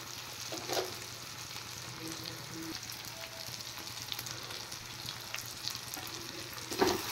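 A mustard and poppy seed masala fries in a pan with a low steady sizzle, occasional spoon scrapes and knocks, a louder clatter near the end, close and with no speech.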